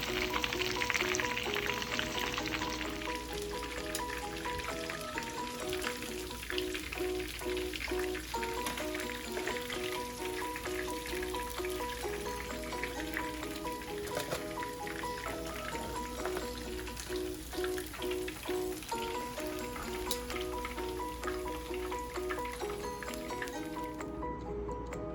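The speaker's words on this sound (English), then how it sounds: "It's my favorite sound, that sizzle." Continuous crackling sizzle of chicken frying in hot oil, steady and close throughout, with a faint background hum.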